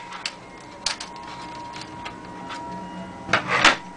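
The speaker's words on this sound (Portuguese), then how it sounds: "Então a gente coloca aqui o primeiro parafuso" A screw is driven in to mount a transformer on an electronics chassis, giving faint, sparse ticks and scrapes followed by a brief, louder rubbing and grinding burst near the end.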